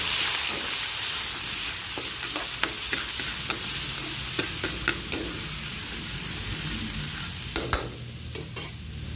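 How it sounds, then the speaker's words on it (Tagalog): Garlic and then onion sauté in hot oil in a frying pan, giving a steady sizzling hiss broken by sharp scraping clicks of stirring, close and fairly loud, with no talking. "Init na ang mantika, ilagay ko na ang bawang. Isunod ko na agad ang sibuyas."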